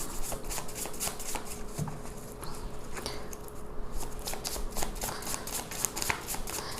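Tarot cards shuffled continuously by hand, a steady stream of crisp riffling flicks close to the mic with no talking.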